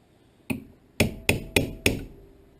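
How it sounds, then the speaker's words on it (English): Close, sharp hammer blows on a metal center punch marking a Dodge Ram power seat part for drilling: one strike, a pause, then four quicker ones in an even rhythm. "I'm just going to make a little punch mark."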